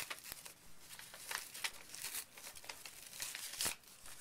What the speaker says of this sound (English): peel it off the paper